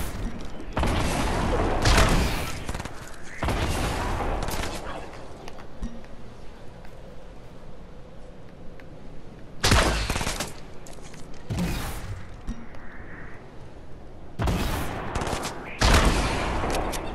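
Bursts of rapid gunfire in a Fortnite-style shooter during a winter storm, loud volleys recurring every few seconds with quieter gaps of game ambience between them, no talk over the shots.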